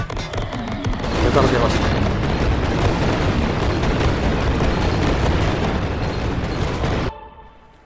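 Bomb blasts in the video game Greedland merge into a long, loud rumbling roar for about seven seconds before dropping away abruptly, with someone talking briefly over it.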